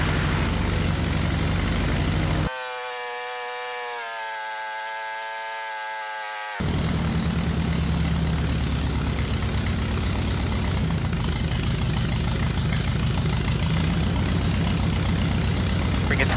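Light airplane piston engine idling on its first test run, a steady loud drone with a brief dip in level partway through, then running on evenly.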